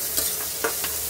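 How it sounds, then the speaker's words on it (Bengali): Fish sizzling in a frying pan with coriander leaves nearby, a soft hiss broken by a few sharp stirring scrapes and spatters, close and alone. "ভাজা হচ্ছে, ভাজা হোক।"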